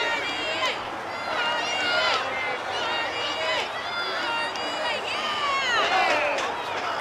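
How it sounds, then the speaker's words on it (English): A wrestling crowd at an independent show chants and cheers for Ric Caurdiea, a steady roar of many voices rising and falling, with commentary talk over it. "You see the crowd starting to chant Caurdiea a little bit,"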